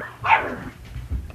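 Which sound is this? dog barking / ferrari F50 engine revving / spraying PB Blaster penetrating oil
dog barking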